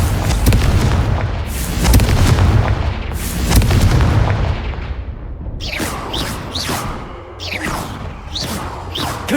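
Confringo fire spell explosions in the game Hogwarts Legacy: several loud, booming blasts arrive in quick succession, each with a whooshing burst, followed by sharper crackling impacts and debris.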